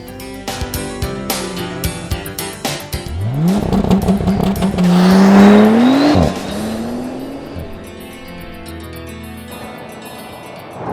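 A Bentley Continental GT is driven on a narrow mountain road, its engine revving up through the gears in a rising, loud roar with sharp shifts, then settling back to a quieter cruise.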